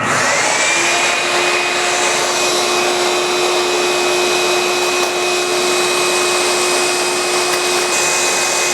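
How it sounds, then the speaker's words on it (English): A vacuum runs continuously and loudly up close, sucking up perlite filter media for a regenerative media filter. It makes a steady, unbroken whirring drone with no talking. "So I'm going to go ahead, turn this on, open up this bag, and start vacuuming."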